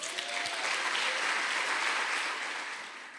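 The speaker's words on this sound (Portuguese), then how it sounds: "Um aplauso a Jesus." A church congregation applauds for Jesus during a Portuguese-language sermon, a sustained wash of many hands clapping at moderate distance that holds steady and then begins to fade at the end.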